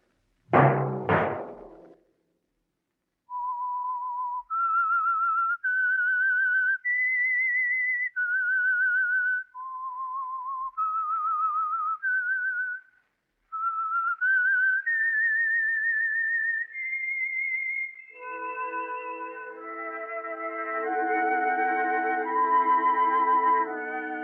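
The whistled theme of an old-time radio program: a clear, close melody with sustained notes and short pauses, preceded by a brief noisy burst; a soft chord of instruments joins at the end.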